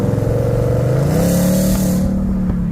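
A Ford Mustang with an aftermarket Euro Arts exhaust revs loud and close, its deep engine note climbing in pitch and then holding steady, with no voices over it.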